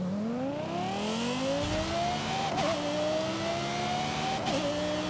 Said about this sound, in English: The wheels chirp when you go from first to second gear.